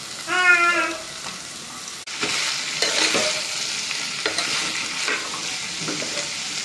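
Boiled broad beans fry in a pan with ginger paste, a loud steady sizzle broken by a sharp clatter and repeated stirring scrapes.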